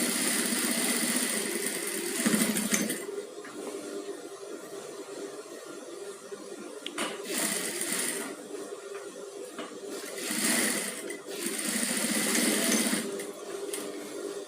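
An electric sewing machine runs steadily, stitching a lined padded gown with a continuous whirring hum that swells and eases in short bursts, heard close up with no talking.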